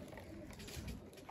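Soft pigeon cooing from a cage at night, a brief murmuring call with faint background hiss.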